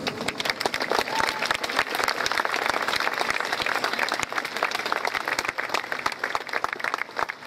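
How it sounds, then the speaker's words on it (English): An audience at a school 9/11 memorial breaks into sustained applause, dense and even clapping from many hands for several seconds, fairly loud and close with no speech over it. "Let's give Aaron McClarty a round of applause."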